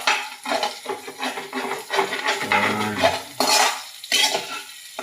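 Meat sautéing in a pan for adobong sitaw, with sizzling under repeated scraping and clattering of a utensil against the pan, close and fairly loud.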